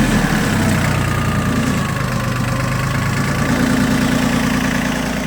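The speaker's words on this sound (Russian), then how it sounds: "Трактор работает ровно и будет работать еще очень долго, очень ровно и очень надежно" Yanmar YM1802 Japanese single-drive tractor with a rotary tiller, its diesel engine idling steadily and loud up close, a continuous even chugging rumble with a faint knocking rhythm and no talk over it.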